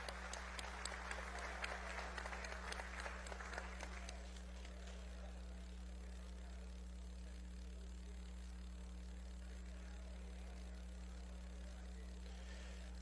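Applause from an audience at a formal session of the National Assembly, a dense patter of clapping that lasts about four seconds and then gives way to a steady low hum.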